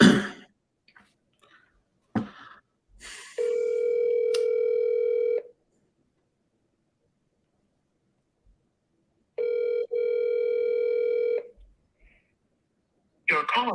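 Outgoing phone call ringback tone, two long steady electronic rings separated by a pause, loud and close, with brief clicks and some faint talk before and after.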